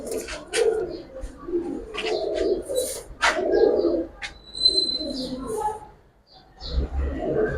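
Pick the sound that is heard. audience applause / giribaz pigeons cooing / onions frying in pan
giribaz pigeons cooing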